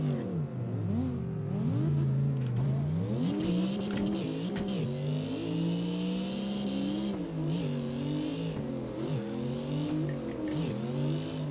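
A car engine in CarX Drift Racing Online revs hard and continuously while drifting, the pitch rising and falling through throttle changes, with faint tire squeal, loud and close throughout.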